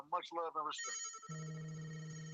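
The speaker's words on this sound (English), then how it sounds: "Whose phone is ringing like that?" A telephone ringtone chimes in a bright repeating tone after a few spoken words, then holds as a steady ringing under a low hum.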